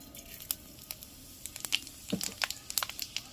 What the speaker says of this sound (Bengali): এবার দিয়ে দিচ্ছি পাঁচ ফোড়ন এটা ফোড়নে যাচ্ছে